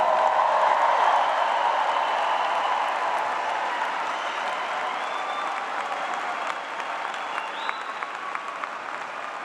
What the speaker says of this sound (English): How about another round of applause for our newest graduates?